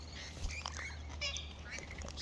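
A pet bird gives a few short, raspy calls at moderate distance over a steady low background hum, with no clear talking.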